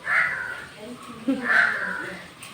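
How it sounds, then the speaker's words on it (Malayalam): A crow caws twice, harsh and fairly close, with a short pause between calls and quiet background. "കാക്ക ഇരുന്ന് വീണ്ടും വിളിക്കുന്നു രാവിലെ"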